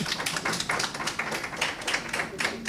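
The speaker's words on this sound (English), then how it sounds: "That deserves a round of applause." A presentation audience at a Massy Foundation event claps steadily, a dense patter of many hands filling the room at moderate loudness without talk.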